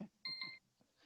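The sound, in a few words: timer alarm ringing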